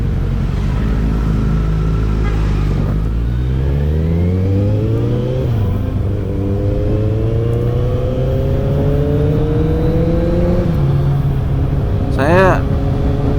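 A Kawasaki Z800 motorcycle with an aftermarket exhaust revs up through several gear shifts, its throaty exhaust rising and falling in pitch, close and loud, with a brief sharp rattle near the end.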